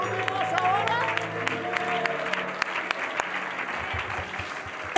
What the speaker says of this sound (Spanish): ¿Sabe por qué usted y yo aplaudimos ahora?